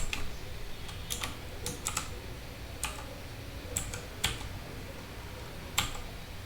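Computer keyboard keys clatter in scattered short bursts of taps, fairly close and moderately loud over a steady low background hum, with no talking.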